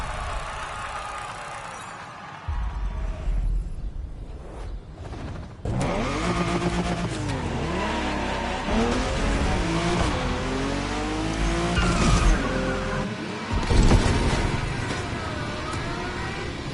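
Ferrari Enzo supercar in The Crew Motorfest, engine revving hard through rising and falling gear sweeps with tire squeal, loud and continuous after a quieter opening.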